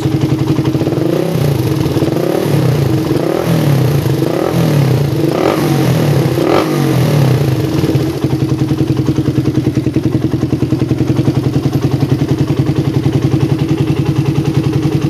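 Carbureted motorcycle engine fitted with an air filter during carburetor tuning, revved in several sharp bursts close to the mic and then held at a loud, steady high-RPM roar.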